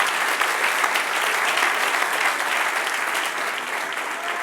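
A church congregation breaks into warm, sustained applause during a sermon, many hands clapping together in an even, dense wash at moderate loudness with no speech on top.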